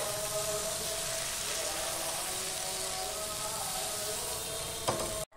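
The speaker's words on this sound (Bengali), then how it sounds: "এবার যে ব্যাটারটা আমি রেডি করে রেখেছি সেই ব্যাটারটা আমি দিয়ে দিচ্ছি" Batter hits a hot pan and sizzles loudly and steadily up close, a dense continuous crackle like rain, with a faint clink near the end.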